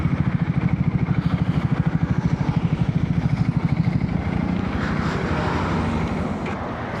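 A TVS Apache RTX 300 motorcycle engine, just after its first service, idles nearby with a fast, even exhaust pulse that softens into a smoother hum toward the end.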